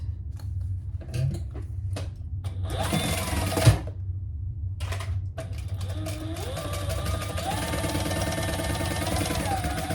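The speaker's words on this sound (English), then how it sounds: "we're gonna lift this up and sew our sides" A sewing machine sews the side seams of a Scottie Convertible closed, running in short stop-start bursts before settling into a long continuous, close mechanical hum.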